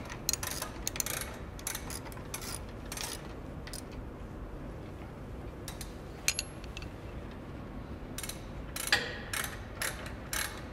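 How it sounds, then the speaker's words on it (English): Ratcheting clicks of a wrench tightening the locking bolt and pivot bolt on a PT Smart belt trainer, irregular bursts of close metallic ratchet ticks over a quiet room. "we'll tighten the locking bolt back down. As well as the pivot bolt."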